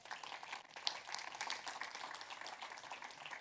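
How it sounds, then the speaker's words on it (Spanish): Church congregation applauding during a Sunday morning service, steady fairly faint clapping from many hands throughout, with no voices on top. "Le da un aplauso al Señor esta mañana"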